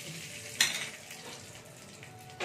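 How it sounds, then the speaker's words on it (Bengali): Panch phoron spices frying in hot oil in a pan: a sharp metallic clatter, then a soft steady sizzle that fades slightly, with a faint clink at the end. "এবার এটাকে আমি একটু ভেজে নেব, একটু ভাজবো যতক্ষণ না পাঁচফোড়নটা থেকে একটা সেন্ট আসছে।"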